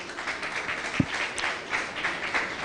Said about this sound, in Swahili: Makofi kwake Mohammed Zakir